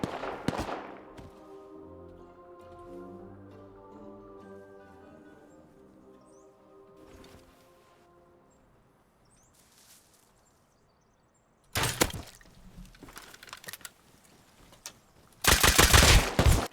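Video game gunfire in a neighborhood area, with a burst of rapid shots partway through and another loud volley near the end, following a quieter stretch of tonal game music.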